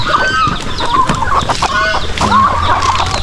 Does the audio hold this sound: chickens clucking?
yes